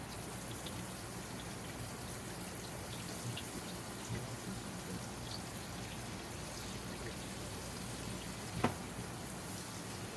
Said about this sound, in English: So they're sizzling in the pan.